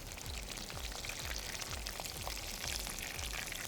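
Eggplant slices frying in hot oil for an eggplant masala, giving a steady close crackle and sizzle with scattered pops throughout, no voices.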